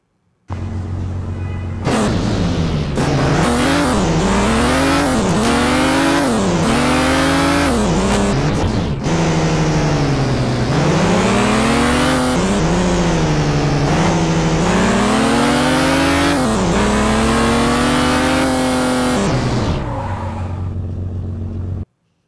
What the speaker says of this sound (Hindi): गैस की आवाज़ भी बहुत अच्छी है मैं आप लोगों को सुनाता हूँ